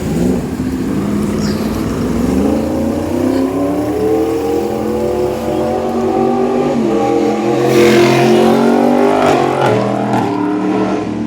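A motorcycle revs loudly as it passes along a street, the engine note climbing and swelling close by before easing away, with steady traffic noise behind it.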